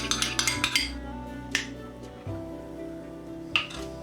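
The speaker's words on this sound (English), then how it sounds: "Let's just stir it up so it's nice and creamy when I dollop it on the sandwich." A spoon stirs Miracle Whip in a small ramekin, making a quick run of light clinks against the dish, then a few isolated taps and a soft creamy squish under low kitchen hum.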